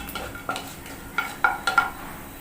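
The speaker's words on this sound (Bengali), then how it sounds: "5 ফোড়নে আমি দিয়ে দেব ডাল।" Lentils tip into a five-spice tempering frying in a pan, with a few spoon clinks and scrapes over a light sizzle in a brief, close burst.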